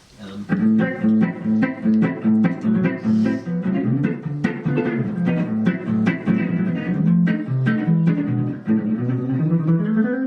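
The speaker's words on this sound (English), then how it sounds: "very specific style of jazz back in the 20s and 30s called hot jazz or gypsy jazz" Guitar played in hot jazz, or gypsy jazz, style, brisk rhythmic chord strums and quick melodic runs at an up-tempo pace, close and lively, with no voice over it.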